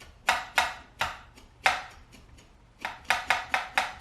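A serrated knife blade scrapes across citrus peel to take off zest, giving a series of short crisp rasping strokes in an uneven rhythm, close up and fairly quiet, with no voices.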